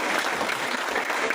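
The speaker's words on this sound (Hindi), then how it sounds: "आप तहे दिल से जोरदार तालियां बजाकर स्वागत कीजिए" A live audience at a stage event breaks into dense, sustained applause to welcome a guest, the clapping steady and loud throughout with no voices rising above it.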